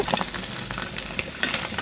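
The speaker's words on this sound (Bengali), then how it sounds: "দেখো বন্ধুরা অবশিষ্ট মাছগুলাও দিয়ে দিয়েছি তাতে ভাজা ভেজে নেব" Pieces of folli fish sizzle and spatter in hot oil in a pan, a dense, crackling fry with sharp pops throughout, loud and close with no voices.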